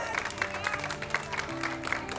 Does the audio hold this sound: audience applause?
yes